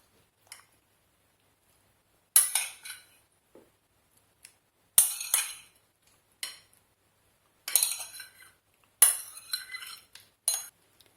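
A utensil stirs mushrooms into an egg and mascarpone filling in a bowl, making a few separate bursts of scraping and clinking with short pauses between them, close and moderately loud.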